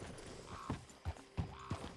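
Horse hooves clip-clop in Red Dead Redemption 2 as a few distinct, fairly close thumps land at uneven intervals over a faint game background, with no talking.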